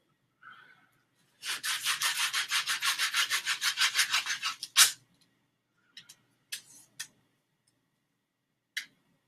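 Sandpaper rubs steadily in a fast, even back-and-forth rhythm for about three seconds, close and fairly loud, followed by a louder scrape and a few brief scattered scuffs; no one talks.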